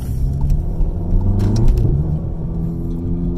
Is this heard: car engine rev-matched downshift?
yes